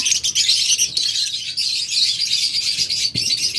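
Pet lovebirds and budgerigars at a bird seller chirp in a dense, nonstop chorus of close, loud, overlapping high tweets, with a faint flutter near the end.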